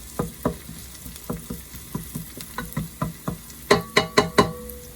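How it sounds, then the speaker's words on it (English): Onions browning and crisping in a hot pan, heard as a close sizzle broken by a steady rhythm of stirring scrapes and taps that grow louder and quicker near the end, with no talk. "My onions are browning up really nicely. They're getting kind of crispy."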